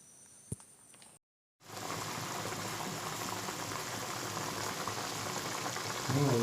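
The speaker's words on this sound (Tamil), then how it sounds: "மூடி போட்டு நல்லா கொதிக்க வைங்க." A covered pot of fish curry simmering on the stove gives a steady, close bubbling hiss that runs evenly after a short gap, with a brief clink near the start.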